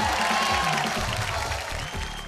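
A crowd in a studio audience breaks into sustained, even applause with light cheering to welcome a guest on a televised show, the clapping fading slightly toward the end.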